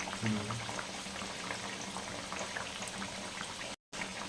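Cabbage fritters deep fry in oil over a medium flame, a constant close bubbling hiss that runs steadily without pause apart from a short cut near the end.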